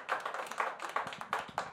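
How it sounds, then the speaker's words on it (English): Brief, uneven burst of audience clapping at a comedy show, a small scattered group of hands tapping in quick irregular rhythm, fairly faint and close. "quick round of applause"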